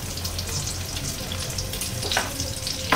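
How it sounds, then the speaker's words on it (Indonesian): Bregedel fritters fry in a pan of oil, giving a steady, loud sizzle with a few brief crackles and stirring sounds. "Yang kecil ini gorengnya itu ya gak terlalu lama, karena ini tadi sudah matang"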